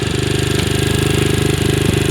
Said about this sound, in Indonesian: itu motor selalu hidup ya